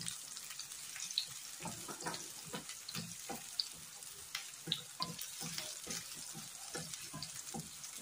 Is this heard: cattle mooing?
no